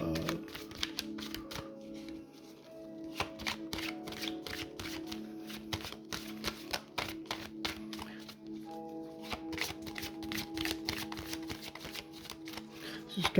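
Tarot cards being shuffled and drawn, giving a dense run of crisp, rapid riffling clicks and flicks close up, with short pauses and a soft voice speaking in French partway through.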